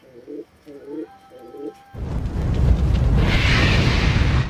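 Pigeons at a pigeon club training session in Pililla, Rizal, coo in soft repeated low phrases, three in a row, before a loud rushing roar of wind or handling noise swamps everything.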